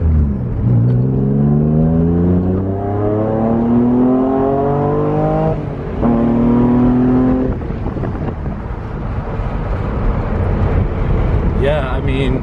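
A JDM Honda NSX's engine revs and climbs through its gears, pitch rising in repeated pulls with brief drops between shifts, loud and close inside the car, while people talk over the engine note.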